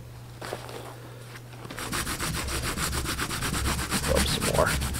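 Hands rub wet wool felt around a resist form while making a witch hat, producing steady, rhythmic, close swishing strokes that grow louder and faster after a quieter start.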